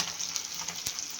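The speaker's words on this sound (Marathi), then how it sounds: "लोखंडाच्या कढईमध्ये फिश मी फ्राय करत आहे." Marinated fish frying with curry leaves in an iron wok hisses in a dense, bright sizzle with a sharp crackling pop near the end, close and steady.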